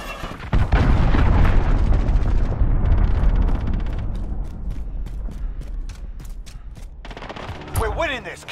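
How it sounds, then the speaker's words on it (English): In Call of Duty: Modern Warfare, a heavy cruise missile explosion erupts with a loud, booming roar that rumbles for about two seconds, then fades into scattered gunfire cracks and mechanical clicks. "Enemy cruise missile incoming."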